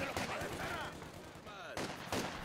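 Machine gun fire in the World War II strategy game Company of Heroes 2, loud dense bursts of rapid shots running through the whole moment with little pause, mixed with other battle noise and a voice talking underneath.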